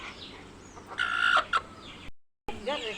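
A chicken clucks in a short series of nasal calls close by, with a brief gap and more clucking after, over light background noise.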